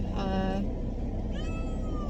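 Cat meowing inside a car while being driven with kittens: two drawn-out meows, one early and one later, over a steady low road and engine rumble.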